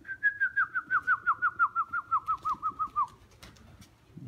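Pigeons in a dovecote give a run of about fifteen evenly spaced, pulsing coos that slide slightly downward in pitch, close and clear, then fall quiet.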